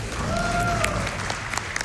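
Audience applause at a Summer Games Done Quick speedrun marathon during a Metal Gear Solid: The Twin Snakes run, a steady wash of clapping from a room crowd lasting under two seconds, with faint game sounds and a voice in the background.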